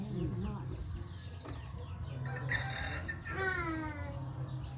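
Chickens cluck and make soft, scattered calls in a rural yard, over steady background noise, with a few brief rising cries.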